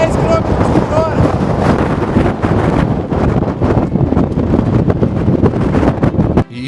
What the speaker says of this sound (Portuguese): O vento aumentou muito, eu calculo que agora deve estar uns 100, 110 km por hora.